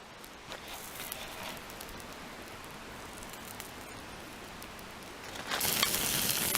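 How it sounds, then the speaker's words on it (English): Steady crackling sizzle of burger meat cooking over an open campfire, growing louder and brighter near the end, with no talking. "Listen to the sizzle."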